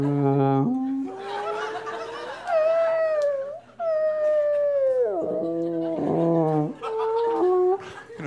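A voice imitates whale calls with long, wavering moans and howl-like glides that rise and fall over several seconds, loud and close, without real talk.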